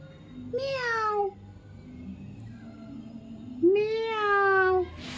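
A kitten gives two clear, drawn-out meows with a quiet pause between them, close and loud over faint background noise.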